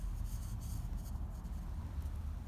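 Pencil scratching short marks on a wooden painting frame, close and quiet, with soft rubbing strokes and no talk.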